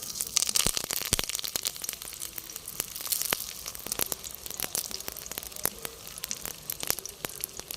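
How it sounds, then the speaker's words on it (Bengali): Fish paturi wrapped in a leaf parcel, made with thankuni leaves and small fish, frying in a little mustard oil in a hot kadai, giving a steady close crackling sizzle with sharp pops throughout. "একটা পাতুরি কড়াইয়ের ভেতর বসিয়ে দিচ্ছি।"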